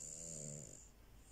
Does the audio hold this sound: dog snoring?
yes